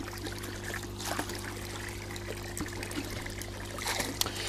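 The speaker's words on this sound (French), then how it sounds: "Vous reprenez l'eau du bassin, vous rincez bien votre seau." Pond water trickles and splashes faintly as a bucket is rinsed outdoors, with soft irregular dribbles over a low steady hum.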